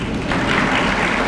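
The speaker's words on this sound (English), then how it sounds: "Give a round of applause" An audience at a graduate association ceremony claps for graduates, producing a short, loud burst of dense applause that swells briefly.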